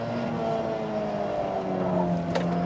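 A Mazda MX-5 pulls down the back straight of a race track, its engine holding a steady, slowly rising drone heard from inside the car, loud and even for the whole stretch.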